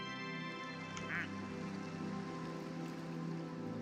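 A single faint quack from a rubber duck in Plastic Duck Simulator, a short squeaky call briefly rising above a steady rain-like hiss.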